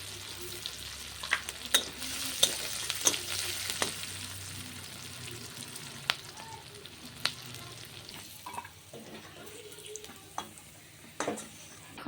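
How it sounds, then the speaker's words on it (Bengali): Chopped onion fries in a pan with a soft, continuous sizzle close by, broken by frequent sharp clicks and scrapes of stirring and light utensil knocks. "ভাজা হতে থাক"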